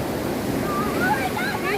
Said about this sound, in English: It's kind of rough, the ocean, but it's okay.